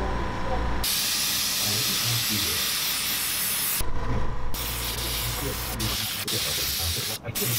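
An aerosol can sprays clear coat onto a deep-diving swimbait lure in several close, hissing bursts separated by short pauses.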